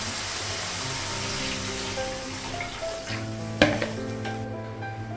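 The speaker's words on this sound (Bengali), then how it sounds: "মশলা মশলা ভেজে নেব" Spices frying in a pan in a home kitchen as a Bengali fish curry gets started: a steady close sizzle runs throughout, with a sharp utensil clink and some stirring scrapes partway through.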